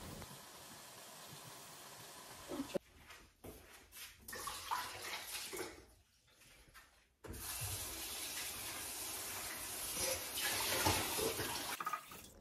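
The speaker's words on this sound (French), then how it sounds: "je suis partie vite fait les laver, savon, rinçage, hop, au moins c'est fait" Tap water runs while pans are washed with soap and rinsed at a sink: steady close streaming, then a quieter pause with splashes and handling clatter, then the flow resumes loudly.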